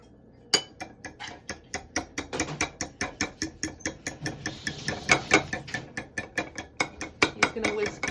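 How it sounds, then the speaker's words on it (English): A whisk beats an egg in a bowl with fast, even rhythmic clinks and taps against the sides, steady strokes repeating close up throughout, no speech. "just gonna whisk that up"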